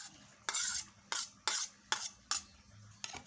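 Onion, finely minced garlic and tamarind being stirred in a pan with a utensil, six sharp scraping strokes at a steady rhythm over a faint background, with no voices.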